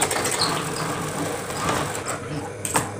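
Sewing machine stitching elastic onto a mukena, a steady whirring mechanical hum running throughout at close range, with a brief clatter near the end.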